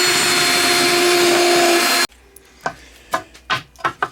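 A steady power-drill whir for about two seconds while pre-drilling wood for deck screws, then it cuts out, followed by several short knocks and clunks of wood being handled.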